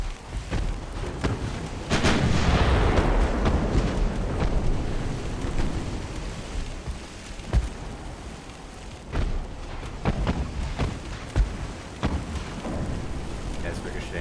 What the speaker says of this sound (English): That's ricocheting.